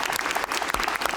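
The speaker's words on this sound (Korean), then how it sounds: "이거 여기서도 박수." An audience at a public forum on Busan's youth arts and culture applauds, a brief steady patter of many hands clapping at moderate loudness with no talk over it.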